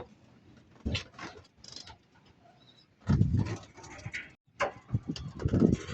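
Hungry pet pigeons being fed after two days without food, with bursts of wing flaps, pecking patter and scattered soft coos close by, broken by short quiet gaps.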